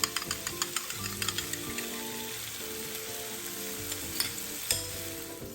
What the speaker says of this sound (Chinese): 炒香炒匀后，再敲入2个鸡蛋